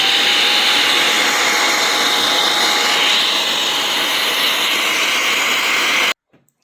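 A hairdryer blasts water droplets off a Dobsonian telescope's primary mirror, a loud, steady whooshing roar held for about six seconds before it cuts off abruptly.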